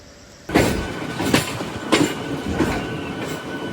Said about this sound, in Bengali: আর আমাদের ট্রেনটা সেই রানাঘাট স্টেশনে ঢুকে পড়লো